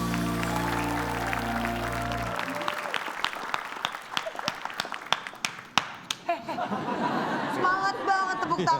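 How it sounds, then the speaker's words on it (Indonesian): Audience applause at a quiz show as a guest is called onto the stage, beginning after a musical sting and building into scattered, lively clapping with crowd chatter and voices mixed in. "Semangat banget tepuk tangannya."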